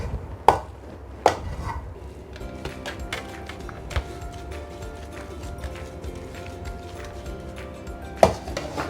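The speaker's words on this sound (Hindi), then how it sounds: "नाइफ़ के साथ हमने इसके ये पीसेस बना लिए हैं" Knife cutting freshly set besan barfi into pieces in a dish, giving a few sharp clicks and taps of the blade against the dish over a low background hum, with no talking.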